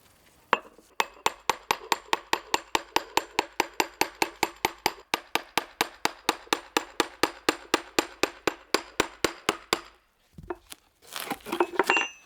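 A hammer strikes a metal tool against stone in a steady, fast rhythm, roughly four sharp clinks a second, then stops.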